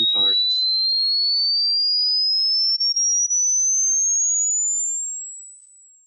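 A single pure test tone, played as an example in an acoustics webinar on building design, holds steady and loud while slowly gliding upward in pitch, then fades out; a brief voice fragment precedes it.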